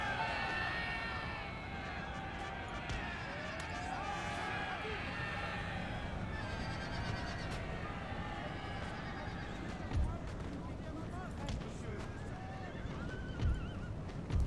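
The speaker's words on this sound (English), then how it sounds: "Cossack cavalry, here we come" Cossack cavalry horses thunder across a Napoleon: Total War battlefield at Borodino, a dense rumble of galloping hooves with repeated neighs and whinnies over distant battle noise.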